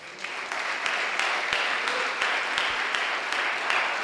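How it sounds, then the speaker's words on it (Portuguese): Church congregation at a worship service giving a round of applause for Jesus, steady dense clapping from many people throughout, moderately loud with a faint hum beneath. "Dá uma salva de palmas para Jesus"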